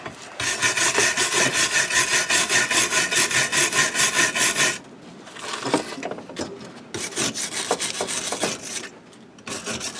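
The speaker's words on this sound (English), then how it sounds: "Wire brush." A wire brush scrubs hard against bare metal on a custom chopper, a loud, close, gritty rasp in fast back-and-forth strokes. It pauses briefly, then resumes in shorter bursts.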